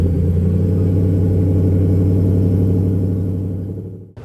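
A 2023 Ford F-150 Raptor R with its V8 engine drives with a deep, loud, steady rumble close by, holding a constant pitch before fading and cutting off at the end.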